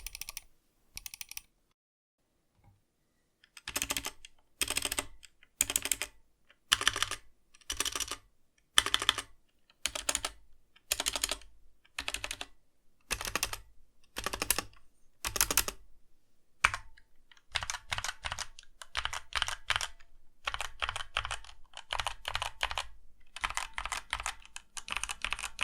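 A budget £45 gaming keyboard in stock, out-of-the-box condition, typed on up close: bursts of loud, clacky keystrokes in rhythmic clusters, then a denser run of rapid typing, with no voices.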